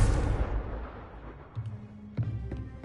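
A Confringo blast spell in Hogwarts Legacy lands as a deep, loud explosive boom that decays over about a second, followed by a few smaller thuds and crackles, with no voices.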